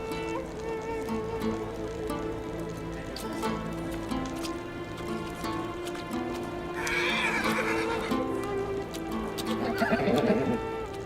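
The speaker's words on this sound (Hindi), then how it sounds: "ये घोड़ी किसकी है?" A mare whinnies and paces with clip-clopping hooves amid a busy soundtrack with steady music, the neighs rising loudly near the end.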